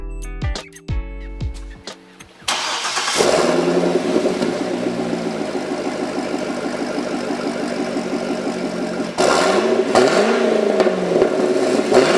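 A 2007 Chevrolet Corvette Coupe with a 6-liter LS2 V8 starts after a few seconds of unrelated tones, then settles into a loud, rumbling idle that rises with a rev near the end.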